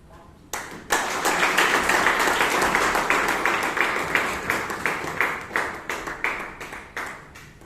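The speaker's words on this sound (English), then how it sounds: "Give one more round of applause." An audience at a Toastmasters meeting in Bangalore applauds after a speech: a sudden burst of many hands clapping, loud and sustained, thinning into a looser rhythmic patter near the end.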